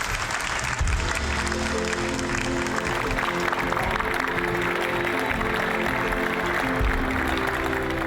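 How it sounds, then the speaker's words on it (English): Sustained applause from a crowd at a Rosie the Riveter event honoring Connie Palacioz, steady and fairly loud throughout, with a low droning tone running beneath the clapping. "So you guys deserve the round of applause."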